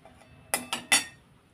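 A metal serving plate for a food offering and its utensils clink three times in quick succession, close and fairly soft, in a kitchen alone without talk.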